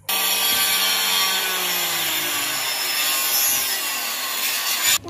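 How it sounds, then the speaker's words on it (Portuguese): A wooden plank is sawn by hand to make a backyard swing seat, a continuous loud rasping stroke sound running steadily for about five seconds up close, stopping abruptly at the end. "a Ari tava cortando a taubinha ali pra fazer o outro balanço"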